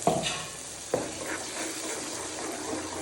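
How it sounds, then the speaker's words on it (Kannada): A ground puree paste frying in oil in a pan gives a continuous hissing sizzle, with a metallic clank from the spoon at the start and another about a second later. "ಎಣ್ಣೆ ಒಳಗೆ ಚೆಂದ ಫ್ರೈ ಆಗಬೇಕು"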